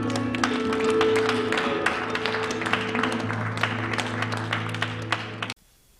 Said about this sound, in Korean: 우리 다시 한번 주님께 영광의 박수 드립니다.